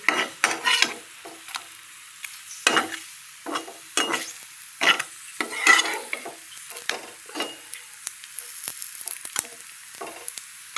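Catla fish omelette pieces sizzle in a hot pan while a utensil stirs and scrapes in repeated short bursts, close and fairly loud against quiet gaps.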